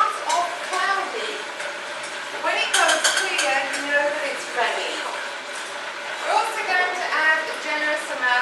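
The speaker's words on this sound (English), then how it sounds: "we're just going to stir the agar agar" Agar agar gets stirred into water for a raw apple and blackberry custard torte, with light utensil scrapes and clinks against a bowl coming in bursts beneath steady talk.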